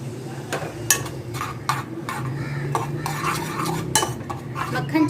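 Garlic and green coriander being stirred in a pan while cooking for stuffed pizza bites, heard as steady scraping and clinking of a spoon against metal with a faint sizzle underneath, close and uninterrupted by talk.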